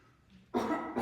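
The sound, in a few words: cough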